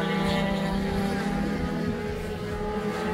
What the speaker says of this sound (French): on est parti donc pour quelques plans de la course en 80 séries